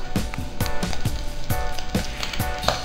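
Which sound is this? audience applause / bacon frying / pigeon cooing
bacon frying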